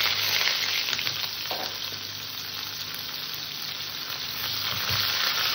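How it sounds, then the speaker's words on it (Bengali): Chopped onions hit hot oil tempered with dried red chili, a bay leaf and whole cumin for a thin mutton curry, giving a loud, steady, continuous sizzle and crackle with no voices. "ভাজা হয়ে গেছে, দিয়ে দিলাম পেঁয়াজ কুচি।"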